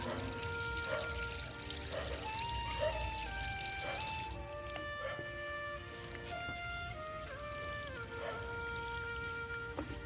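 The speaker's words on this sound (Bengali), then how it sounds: "এইবার একে পর্যাপ্ত পরিমাণে জল দিয়ে দেব।" Water pours steadily from a can onto a freshly transplanted petunia in a pot in a winter garden, a continuous close splashing trickle with shifting tones as the flow soaks the soil.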